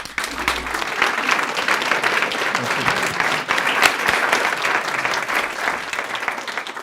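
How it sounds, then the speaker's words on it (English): Loud, dense applause fills a school board meeting room as parents and supporters clap together, a sustained crowd roar of hand claps that stays steady for the whole stretch. "please stand up and let's give them a round of applause as well"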